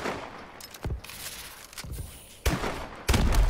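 Gunfire in Call of Duty: Advanced Warfare, scattered loud shots and short bursts, the heaviest coming in the last second, up close with no speech over them.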